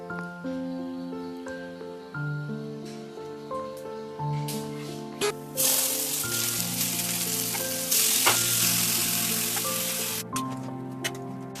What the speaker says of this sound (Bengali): তো কড়াই চাপিয়ে দিয়েছি, এর মধ্যে একটু তেল দিয়ে দেবো